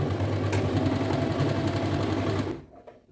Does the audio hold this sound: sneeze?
no